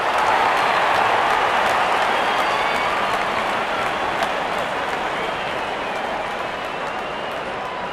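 A cricket crowd applauds a batter reaching fifty in a T20 match between India and Australia, with loud, sustained clapping and cheering from a big stadium that fades slightly over several seconds.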